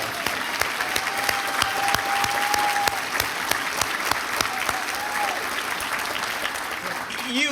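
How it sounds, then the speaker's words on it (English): Banquet audience applauding at a Citizen of the Year event, a sustained loud rush of clapping with distinct sharp claps punctuating it, continuing evenly for several seconds. "Let's give her a round of applause."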